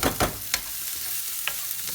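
Onion and garlic sweat in a hot pan with a soft, continuous sizzle, broken by a few brief stirring scrapes, close and fairly quiet.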